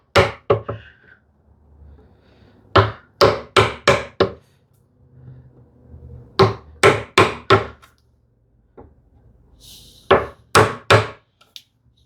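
A wide chisel is driven into wood by hand while cutting a stopped housing dado: sharp, close knocks fall in clusters of three or four, with brief quiet gaps between the groups.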